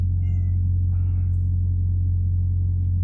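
A pet cat meows several times in quick succession early on, close by, over a steady low electrical hum and rumble inside a truck cab, then falls quiet.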